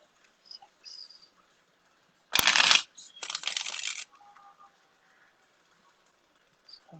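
Tarot cards are shuffled close by in two quick bursts of crisp riffling and flicking, separated by a short pause, with faint light clicks and rustles around them and no talk.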